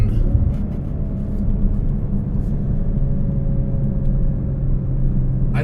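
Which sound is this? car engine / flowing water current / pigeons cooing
car engine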